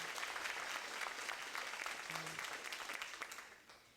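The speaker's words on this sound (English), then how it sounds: "if we can give these wonderful new candidates, these wonderful members of our Honor Society, a nice round of applause from their" Families and friends clap for new National Honor Society inductees at a school induction ceremony, a steady, moderately distant round of applause filling the room throughout.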